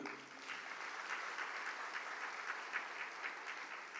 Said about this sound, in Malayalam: ഒന്ന് കൈ ഉയർത്തി കൈയടിക്കുക